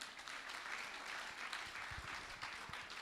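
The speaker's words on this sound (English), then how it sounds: "A round of applause for Mr." Applause from an audience at a cattle, sheep and goat farmers' exhibition day, a steady, moderately faint wash of clapping lasting the whole moment.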